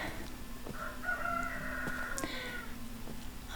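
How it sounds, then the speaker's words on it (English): Several cockerels crow loudly and repeatedly close by, their long strained calls overlapping with some clucking, and no one speaks. "I'm sorry about my cockerels today because they are being very loud."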